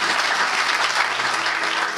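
A church congregation applauding, a dense steady wash of many hands clapping close and loud throughout, with no talk over it.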